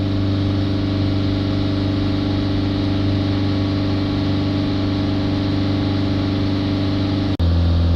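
A Peugeot Boxer 2.0 diesel engine holds steady at raised revs, a close, constant droning hum with no voices. Near the end it abruptly shifts to a slightly different tone as the revs change.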